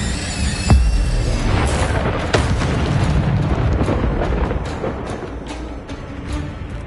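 Incendio fire spell blasts in Hogwarts Legacy, loud booming bursts of flame with rumbling, crackling roar that sustains and fades between casts.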